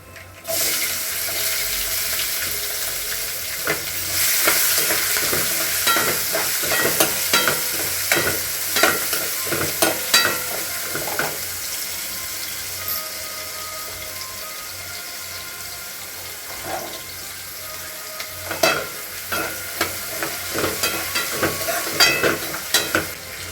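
Onion frying in a pan with cumin seeds and asafoetida, being stirred steadily; clattering stirring and soft sizzling run throughout at close range with no talk.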